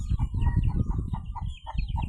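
A hen and her chicks clucking up close, with a steady run of short soft clucks mixed with higher peeping calls from the chicks, continuous and fairly loud across the whole moment.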